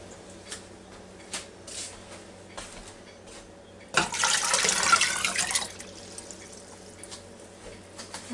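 Hot tap water runs into an Instant Pot Duo Crisp, a close, steady gush that lasts under two seconds. Light knocks and clinks of kitchen handling come before and after it.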